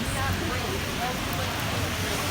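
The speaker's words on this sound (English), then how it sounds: "It's raining. Nice rain." Steady rain pattering on a hard surface in New York City, a constant broadband hiss with faint low rumble beneath.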